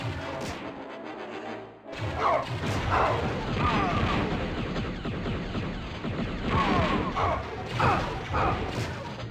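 Blasts, crashes and booming shots from the video game Star Wars: Shadows of the Empire, a dense, loud run of repeated impacts with a short gap near the start, while a player talks over the action.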